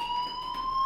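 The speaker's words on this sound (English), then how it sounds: "Hey, do you hear that fire alarm?" A fire alarm in Life is Strange emits a steady, piercing electronic tone, continuous and unbroken across the short moment with no voices.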